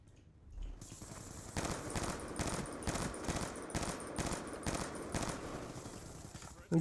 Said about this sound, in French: La tourelle qui me tire dessus, c'est ma propre tourelle qui me tire dessus